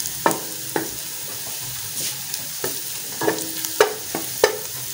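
Ingredients fry and brown in hot ghee in a pan while being stirred, a soft steady sizzle broken by several sharp spatula clinks and scrapes at an uneven pace, close by, with no speech.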